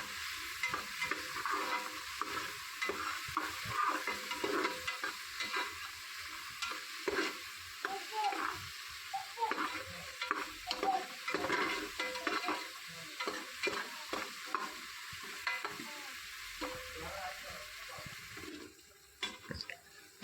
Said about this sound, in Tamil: தக்காளி சேர்த்து நல்லா வதக்கி விட்டுக்கலாம்